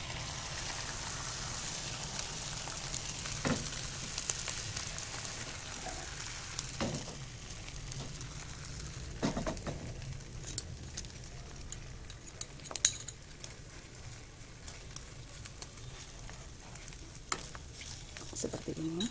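A beaten egg mixture seasoned with salt and pepper sizzles steadily in a pan for kebab filling, a constant close frying hiss broken by a few clinks and scrapes of a utensil.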